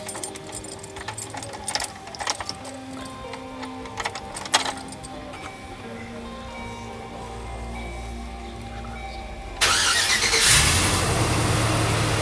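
After a few scattered metallic clanks and handling noises, a vehicle engine with a newly installed starter cranks and catches, then keeps running at a steady, loud idle to the end.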